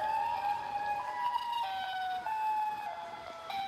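Siren of the Siren Head creature in an end-of-the-world scene; a wailing tonal siren with slowly gliding, wavering pitch, moderately distant and fairly faint, sounding alone.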